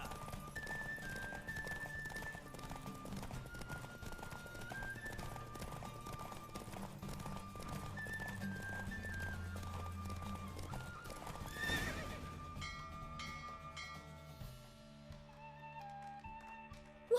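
Horse hooves galloping in The Witcher 3 video game, a fast rhythmic clip-clop that is fairly faint under game music, with a neigh heard along the way.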